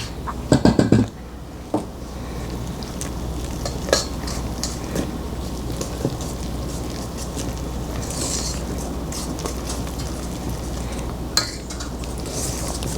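Gingerbread batter stirred by hand with a utensil in a pan, a few clanks against the pan at the start, then continuous soft scraping and swishing strokes.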